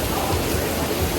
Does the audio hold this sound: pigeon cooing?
no